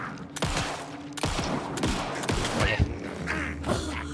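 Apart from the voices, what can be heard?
gunshots in the video game Alan Wake 2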